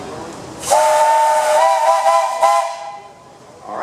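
A steam engine whistle blows one sustained, loud, steady tone with a hissy edge for about two seconds at a parade, then fades out.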